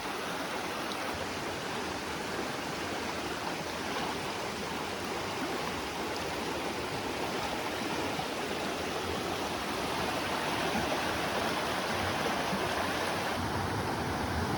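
A mountain stream runs over rocks and small falls in a slate and flysch channel, giving a steady, dense rushing and splashing that holds at an even level throughout, with no voices.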